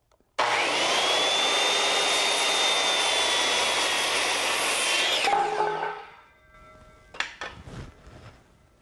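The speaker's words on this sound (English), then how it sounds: "take my square, draw a line, take my cutoff saw, and carefully cut it" A powered cutoff saw cuts a measured piece: a loud, steady whining roar for about five seconds, then it winds down, followed by a few light knocks and clatter.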